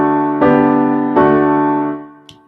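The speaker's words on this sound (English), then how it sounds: "Okay, so they sound like this: pedal 6/4," Piano chords in a pedal 6/4 progression sound out: three sustained chords struck about a second apart over a held bass note, each ringing and fading, then a faint click at the end.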